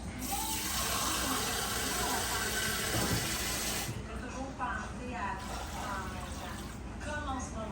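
A cup of water poured into a cooking pot of vegetables, a steady rushing splash that stops abruptly partway through, followed by a French-speaking voice under quieter kitchen sounds.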